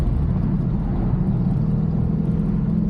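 A car with a TH400 automatic transmission idles in second gear after a downshift, giving off a steady low engine rumble and whir at constant loudness.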